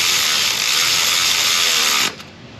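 A power ratchet spins bolts in on an engine harness bracket during an LB7 Duramax engine swap, a loud continuous whirring buzz for about two seconds before it cuts off abruptly.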